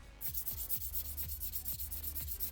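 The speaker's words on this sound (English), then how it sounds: "Just get on a little piece of wood and just start sanding." Steady back-and-forth rubbing of fine grit sandpaper on a small piece of wood, close up, with a regular rhythm of strokes about every quarter second.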